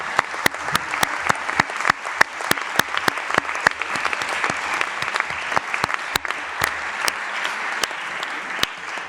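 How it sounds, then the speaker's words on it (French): Applause from members of the Rouen municipal council during a February 2026 session, a modest group of distinct hand claps, steady and fairly close, continuing without talk. "On peut vous applaudir aussi."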